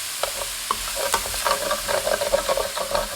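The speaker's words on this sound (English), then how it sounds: "I'm going to stir this in." Onions and garlic being stirred in butter in a skillet after steak bites, a loud close sizzle with scraping and shuffling stir strokes that build toward the end.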